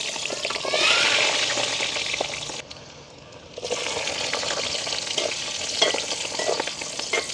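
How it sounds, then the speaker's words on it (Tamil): Peeled garlic cloves sizzle and crackle steadily in hot oil in a village kitchen, a loud close hiss that briefly quiets midway before resuming with stirring. "அதையும் அப்படியே பொரிச்செடுப்போம்."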